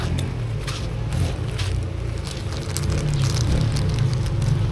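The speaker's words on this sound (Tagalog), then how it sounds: "Paparinig ko sa inyo yung makina kasi nawala na yung tunog." A repaired engine idles and runs during a test drive of a five-speed vehicle, a steady low rumble with rattly mechanical texture and no voices.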